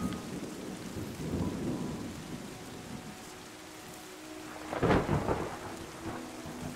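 In the video game Terra Nil, rain hisses steadily while rolling thunder rumbles, swelling early and then cracking into a louder, nearer burst toward the end before settling back under the rain.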